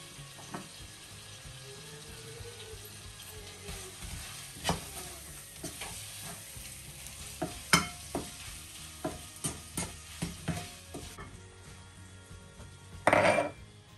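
Frozen mutton mince with potatoes and carrots frying quietly in a pot, a soft steady sizzle broken by irregular clinks and scrapes of a spoon stirring, heard close and without talk.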